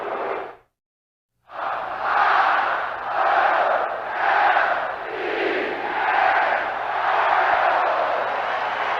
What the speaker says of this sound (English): That's Wild Bill Hagee and his cheering section in the upper deck